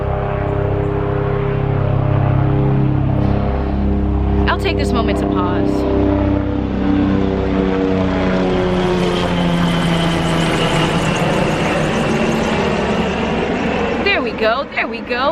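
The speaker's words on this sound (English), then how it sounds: "it's a plane passing around." A loud airplane passing overhead rumbles in a broad, steady roar that slowly shifts in pitch as it goes by, with someone talking over it.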